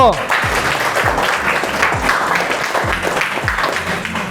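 Students and a class applaud a student discussion group in a university teacher-training classroom, a steady burst of close clapping from many hands lasting a few seconds.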